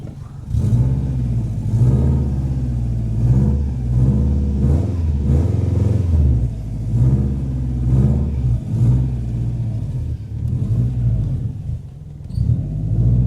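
A Subaru EJ-engined car on its first drive in six years after a timing belt and radiator replacement, its engine rumbling close up with a low throbbing note that rises and falls through repeated revs and gear changes.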